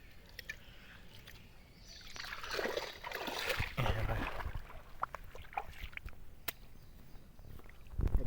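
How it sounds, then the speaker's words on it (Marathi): River water trickling and gurgling along a Konkan riverbank during prawn catching, a close, uneven wash with small splashes that swells in the middle, with faint voices in the background. "असा भुतूर भुतूर पाणी येतात ना नदीचा"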